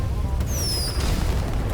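A Molotov cocktail bursts in GTA 5 amid a loud low roar of fire and blasts, with a descending whistling streak partway through and no clear talking.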